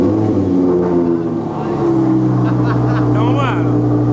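An Audi R8 engine rumbles with a low steady cold-start idle, then revs up in rising bursts, loud and close, with someone talking over it in Portuguese.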